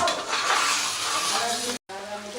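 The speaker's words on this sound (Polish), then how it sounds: "I mieszamy i smażymy dalej." Fideua, a Spanish noodle dish, is stirred and fried in a pan, with a steady close sizzle and scraping stir sounds that break off briefly before resuming.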